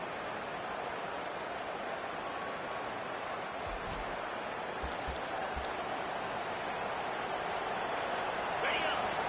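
A packed stadium crowd in a college football video game roars in a steady, washing din, fairly distant and even throughout, with a few faint thumps and a commentator speaking over it.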